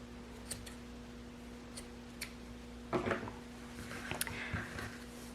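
Scissors cutting through macrame cord loops, a few faint close snips and clicks scattered over a quiet room background with a low steady hum.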